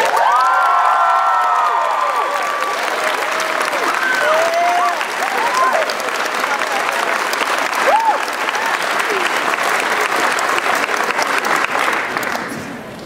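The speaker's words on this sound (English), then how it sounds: "I'd love for you to give him a round of applause, Alexander Constantine." A school choir concert audience breaks into loud, sustained applause for the musical director, with cheering and whoops over continuous clapping that fades slightly toward the end.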